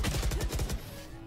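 Rapid automatic gunfire in the shooter game Valorant, a quick burst of about a dozen sharp shots in under a second, then a faint trailing tail.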